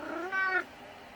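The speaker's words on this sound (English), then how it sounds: "Cute, but annoying cat." A house cat gives a single short, close meow lasting under a second, clear against a quiet room.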